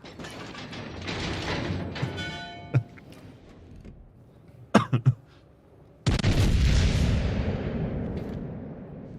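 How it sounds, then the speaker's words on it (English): A battleship's main gun salvo in World of Warships: Legends, heard as mechanical whirring and clanks followed by a sudden loud roaring blast that slowly fades away. "I should have saved that salvo for the Alabama"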